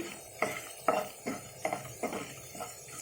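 Fenugreek and cumin seeds tempering in a pan for a gangavayilaku chutney, a utensil scraping and stirring in about six rhythmic strokes over a soft background sizzle, no talk.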